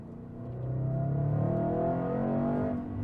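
A 2013 Audi RS5 engine builds into a strong, steady rev with a smooth rising drone heard up close from inside the car, holding loud and even for a few seconds before easing slightly at the end.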